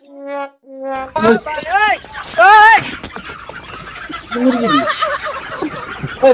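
A person loudly imitates a chicken's clucking, with several rising, squawking bursts after a short run of electronic beeps; other voices talk around it.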